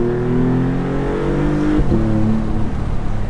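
Engine of an open-roof Maserati MC20 Cielo supercar pulling steadily, its tone rising through a gear, then dipping at a shift and climbing again, heard close from inside the car.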